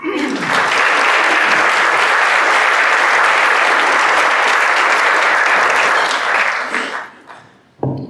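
Warm applause from a Rotary meeting audience welcoming a guest speaker, loud and steady for about seven seconds before tapering off into near quiet.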